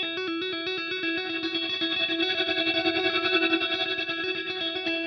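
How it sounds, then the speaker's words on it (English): An electric guitar track run through parallel processing and an out-of-phase auto pan tremolo plays sustained, distorted chords with a gentle pulsing wobble in volume, full and steady throughout. "an auto pan that is set out of phase to give it a slight tremolo effect"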